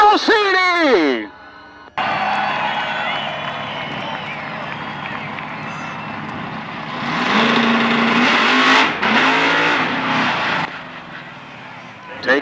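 A drag car makes a power wheelstanding launch down a quarter-mile strip at Byron Dragway, a loud sustained engine roar that surges and swells with a crowd audible behind it and a brief burst of voices at the start.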